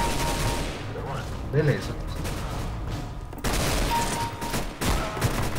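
Gunfire in the video game CSGO: dense bursts of rapid shots crackling across the stretch, nearby and fairly loud, stopping briefly before resuming, with someone speaking Portuguese over the shooting.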